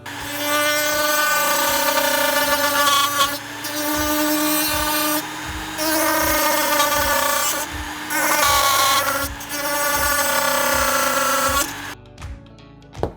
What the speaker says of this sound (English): just let the burr do the work for me